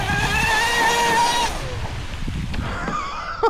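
Proboat UL-19 radio-controlled speedboat crashing on water, heard as a high whining motor that cuts off into splashing and churning water, with a sharp knock at the very end.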